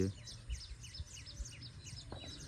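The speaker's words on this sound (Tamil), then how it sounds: "பார்த்தா எவ்வளோ குருவிகள் சிட்டுக்குருவிகள் அவ்வளோ குருவி" Sparrows chirp in village fields in the morning, with many short high calls repeating in quick irregular bursts, moderately close, over low background rumble with a few soft thumps.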